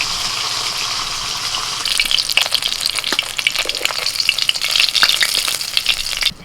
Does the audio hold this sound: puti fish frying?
yes